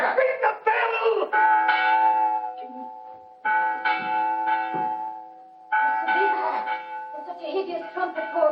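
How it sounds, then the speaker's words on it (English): An alarm bell rings out with sustained, clanging tones across most of the stretch, sounding in bursts under loud, overlapping shouted voices in a 1961 television staging of Macbeth. "Ring the bell!"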